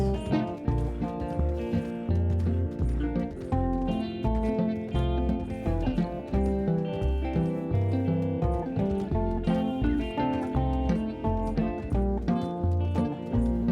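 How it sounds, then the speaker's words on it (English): Horse hooves clip-clop in a steady rhythmic gait in the video game Red Dead Redemption 2, heard under a continuous melodic song that plays throughout. "Ain't you a good horse?"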